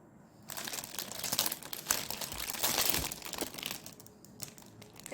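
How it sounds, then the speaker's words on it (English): Plastic packet around a unicorn pencil case crinkles and crumples as it is opened, a dense continuous rustle with louder bursts, close and alone with no talk. "Like the best part of opening a packet."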